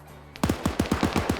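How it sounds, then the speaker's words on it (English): Rapid automatic gunfire crackles in a military shooter game match, about eight close, sharp shots in a steady burst following a brief quiet lead-in. "They're shooting back over here."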